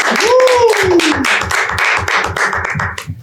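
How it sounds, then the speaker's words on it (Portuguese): Audience applause with rhythmic clapping heard under a speaking voice that rises over it at the start, the clapping continuing evenly and fading at the end. "Aplaudam!"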